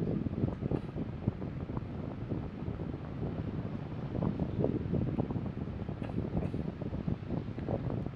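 Strong gusts of wind buffet the microphone, producing a loud, uneven roaring rumble that surges and fades without pause.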